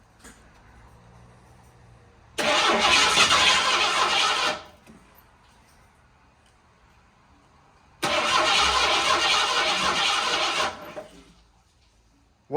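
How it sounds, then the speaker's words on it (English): A 1990 Ford Mustang left sitting for 15 years is cranked in two loud bursts of about two seconds each, with quiet gaps between them. "this is the first attempt at starting this car after it's been sitting for 15 years"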